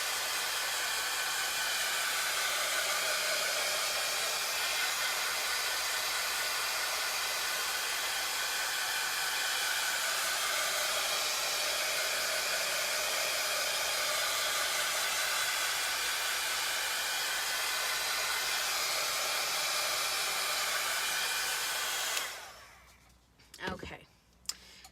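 Hair dryer blowing steadily and close on a DIY print for about twenty-two seconds, a loud continuous whoosh that then cuts off, followed by a few handling noises.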